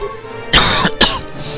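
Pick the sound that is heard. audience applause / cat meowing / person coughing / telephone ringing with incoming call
person coughing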